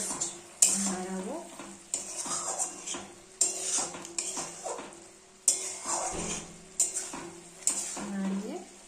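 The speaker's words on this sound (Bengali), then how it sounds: "একটুখানি জাস্ট নাড়াবো" A utensil stirs food in a sizzling pan, giving rhythmic scraping and clinking strokes roughly every second, close and clear.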